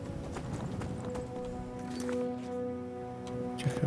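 Horse hooves clip-clop steadily in Skyrim, with an occasional whinny, heard close under a layer of game music.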